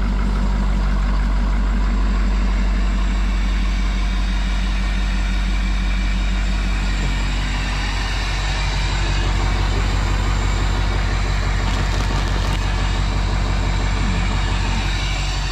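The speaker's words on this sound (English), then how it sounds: "But the truck is running." A truck engine idles steadily on a worksite where dozer piles are being cleared, with a deep, continuous rumble that holds constant throughout and no talking.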